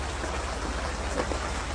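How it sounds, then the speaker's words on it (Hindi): Rain falls steadily outdoors, a dense continuous patter with a low rumble underneath, constant throughout with no voices. "जरा बारिश हो रही है"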